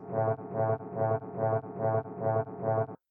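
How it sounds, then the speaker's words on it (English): A simple synthesized drone built in Ableton, a sustained tonal bed swelling and dipping in a steady pulsing rhythm about every half second, moderately loud and alone, stopping abruptly near the end. "Just a very simple drone or background element."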